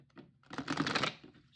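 Oracle cards from a Queen of the Moon deck being shuffled quickly by hand, a dense papery riffle of rapid clicks that swells for about half a second and then fades out.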